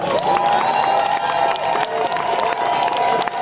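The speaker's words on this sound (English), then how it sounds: "So I think they deserve an extra round of applause." A crowd at a sports closing ceremony applauds and cheers, loud continuous clapping with shouts and high cheering voices carrying over it, steady and close for the whole stretch.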